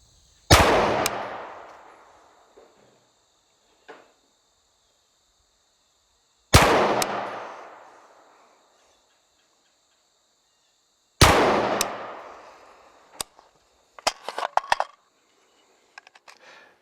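Three sharp rifle shots from an enhanced SBR, fired at a target 50 yards away and spaced several seconds apart, each a loud crack trailing into a fading echo, followed by light clicks and handling noises.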